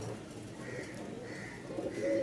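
A pair of yellow-eyed Rajshahi Giribaz pigeons coo softly in a few low, repeated phrases over steady background noise, with the last coo a little louder.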